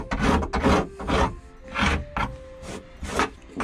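Rasping scrape of old, tattered interior lining being stripped inside a Mitsuoka BUBU504 car, coming in repeated close, loud strokes about every half second, with no talking.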